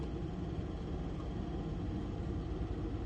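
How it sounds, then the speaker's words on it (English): A truck pulls away from an intersection close by, giving a steady, loud low engine rumble with broad road noise that holds evenly throughout, with no voices. "There's a truck taking off next to me"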